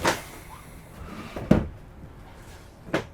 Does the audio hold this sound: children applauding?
no